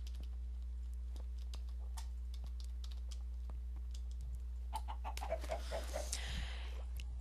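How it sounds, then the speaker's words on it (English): Computer keyboard and mouse clicks during Minecraft parkour play, scattered sharp taps at irregular intervals over a low steady hum, with a brief burst of chirpy tonal sound near the end. "It was my keyboard. That's all it was."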